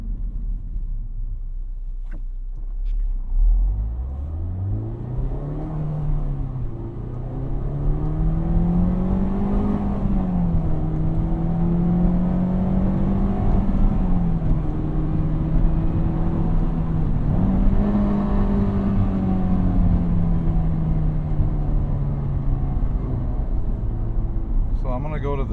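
Engine of a manual-transmission car droning steadily while the clutch is engaged, pitch rising and dipping gently with load as the car creeps forward; a voice talks over it throughout.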